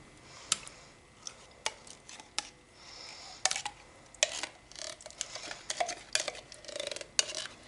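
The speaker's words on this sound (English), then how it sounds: "I'm going to mix in my canned pumpkin" A large spoon stirs canned pumpkin into batter in a bowl, making a series of irregular close clinks and scrapes against the bowl, with soft thick mixing sounds in between.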